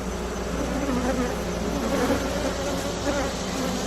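Honeybees buzzing at an established hive during a fall queen installation, a dense, continuous close-up drone with no voices.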